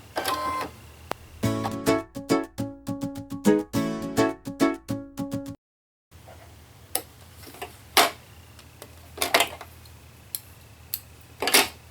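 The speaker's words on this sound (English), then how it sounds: "with right sides together, I'm going to take this to the machine here, and away we go" A sewing machine stitches quilt pieces for an airplane-themed quilt, placed right sides together. A rapid, even run of close, sharp mechanical ticks plays for a few seconds, then a pause, followed by scattered isolated clicks and thumps. No one speaks.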